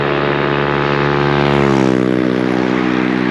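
Exhaust of a Honda Navi motorbike fitted with a Yoshimura spark arrestor, a steady loud droning buzz with dense harmonics, close and continuous, pitch shifting slightly midway as if revving, with no talking.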